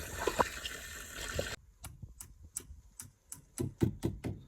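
Water trickles and splashes in a rural outdoor mud kitchen, a soft wash of pouring that cuts off abruptly, then gives way to a series of sharp, irregular drips and knocks at close range.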